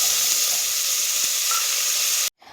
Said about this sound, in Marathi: आता हा टोमॅटो तेलात 1 मिनिटभर छान असा परतून घ्यायचा